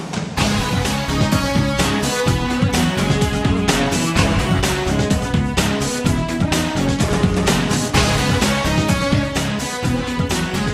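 Jingle for the news segment News Down Under, a dense, loud, steady full-band music bed with rhythmic hits running throughout with no talking.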